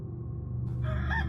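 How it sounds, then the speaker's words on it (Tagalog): A rooster crows once, its rising call cutting through a steady low hum of background noise. "Tumilaok na ang manok sa labas namin."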